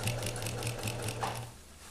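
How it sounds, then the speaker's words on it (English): Sewing machine stitching off the end of a quilt, a rapid steady mechanical whir with rhythmic needle clatter, close and fairly quiet, easing off near the end. "what we're going to do is continue to sew off of the quilt for about a ½ inch."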